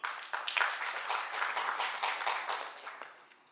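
An audience at a business networking event at The Westin Dhaka applauds in a dense, steady burst of clapping that stays strong for about three seconds and then fades out. No one speaks.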